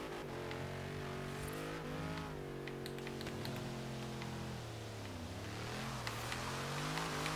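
A big front-mounted car engine in Forza Horizon 3 revs and changes pitch, rising and falling, heard quietly and steadily with faint clicks, no talk.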